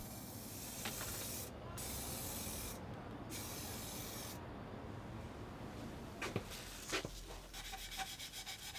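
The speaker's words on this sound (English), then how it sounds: "The yellow MDF frame ended up spray painted flat white." Steady hiss of flat white spray paint from an aerosol can onto an MDF picture frame, with brief pauses between bursts and a few light clicks and rubs toward the end.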